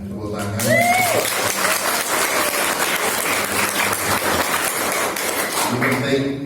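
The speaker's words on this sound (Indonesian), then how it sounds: "Tepuk tangan." Audience at a school inauguration and leadership seminar breaks into steady, full applause lasting several seconds, with a speaker's voice briefly at the start and end.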